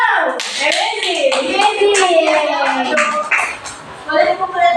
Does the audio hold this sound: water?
no